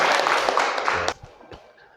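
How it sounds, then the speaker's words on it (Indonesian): Students in an MTs classroom burst into brisk, close applause for about a second before it stops abruptly, leaving quiet room noise. "Oke, tepuk tangan semuanya."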